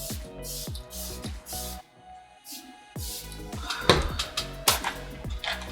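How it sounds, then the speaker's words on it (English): Several quick pumps of a setting spray mist onto a face, each a brief airy hiss in close succession, heard against background music. "Quickly spray the face."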